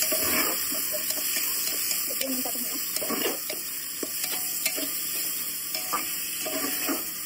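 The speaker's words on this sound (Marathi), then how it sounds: "मीडियम गॅसवरती मी याला फ्राय करत आहे, कारण ते खाली पण नाही लागलं पाहिजे आणि व्यवस्थित तेलामध्ये सर्व भाज्या फ्राय पण झाल्या पाहिजे." Mixed vegetables and beetroot fry in oil over medium gas for pav bhaji, a steady close sizzle broken by repeated scraping stirs of a spatula in the pan, with no talking.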